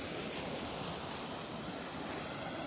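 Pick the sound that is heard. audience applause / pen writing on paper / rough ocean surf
rough ocean surf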